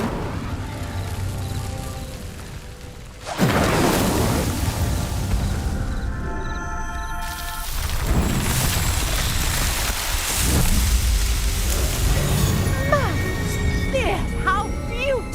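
In the Hogwarts Legacy video game, the Incendio fire spell ignites a set of pyres: a loud, sudden whoosh bursts in and settles into a roaring, crackling blaze, with further surges of flame and bright magical chiming toward the end.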